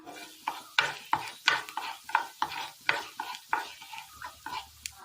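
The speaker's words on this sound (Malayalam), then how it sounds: "ചൂടായ വെളിച്ചെണ്ണയിലേക്ക് അല്പം ഉഴുന്നുപരിപ്പ് ചേർത്ത് കൊടുക്കാം" Urad dal frying in hot coconut oil in a pan, stirred with a spoon: a string of sharp scraping strokes in a steady rhythm, close and fairly crisp, over a faint sizzle.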